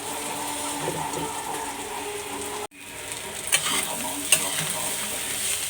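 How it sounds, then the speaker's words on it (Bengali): Green chilies sizzle and fry in hot oil in a wok, a steady close crackle interrupted by a brief cut midway, with occasional sharper spatters and stirring. "তেলে দিয়ে দেবো লঙ্কাটা ভাজা ভাজা হয়ে গেছে"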